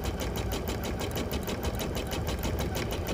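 An embroidery machine stitches out a design, a rapid, steady mechanical rattle of the needle that repeats evenly and close by, with no talking.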